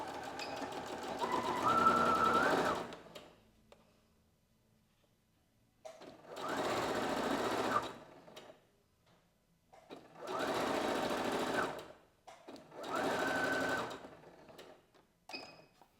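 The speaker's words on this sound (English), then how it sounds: "sew in the strap and sew over the strap a couple of times just to make sure it's really not coming undone again" A sewing machine stitches across a dress strap in four bursts, each whirring run lasting two to three seconds, separated by quiet pauses while the fabric is turned, fairly close and with no voices.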